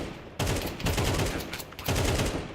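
Counter-Strike 2 gunshots in a professional esports match: sharp, loud rapid bursts of automatic fire, close and punchy, in two main volleys with a short gap between them and no talking.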